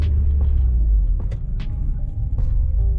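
A car drives along the road on its first outing with a newly fitted steering wheel, giving a steady low engine and road rumble from inside the cabin with a few faint clicks and knocks.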